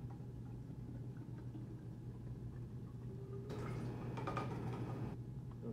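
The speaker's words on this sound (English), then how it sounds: "Fill up the top of this can and pour it into your large graduated cylinder" Liquid from a soda can pours into a large graduated cylinder in one short splashing stream after a quiet pause, close by with low room hum.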